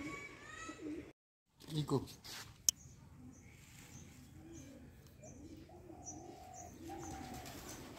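Soft, low cooing from pigeons being fed rice in hot weather repeats several times close by under faint background noise and a brief voice.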